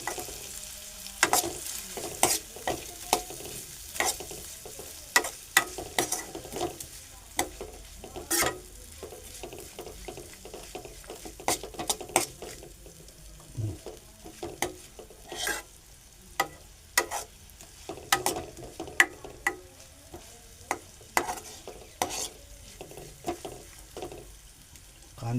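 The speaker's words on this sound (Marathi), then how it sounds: "कांदा आता ब्राऊन होईपर्यंत परतून घेऊया" Onion with turmeric being stir-fried in a pan until browned, a steady sizzle broken by frequent sharp clicks and scrapes of a spoon against the pan, close and continuous with no talk.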